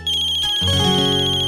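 A phone ringtone starts up, a bright melodic electronic tune with a steady beeping pulse, loud and close.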